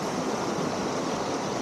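A river rushes steadily beside a mountain trail, a dense, even roar of flowing water that stays constant and fairly loud throughout, with no voices.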